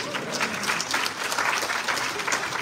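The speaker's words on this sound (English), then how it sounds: "Once again, give yourselves a hand clap." Church congregation clapping their hands at a women's auxiliary annual session, a dense, steady wash of applause held at an even level throughout.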